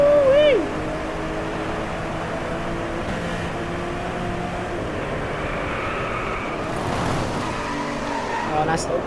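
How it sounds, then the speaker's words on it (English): A racing car in Driveclub drifts with a long, steady tire squeal over a droning engine note through a race lap, loud and sustained for several seconds; no one speaks. "Oh, nice little drift there."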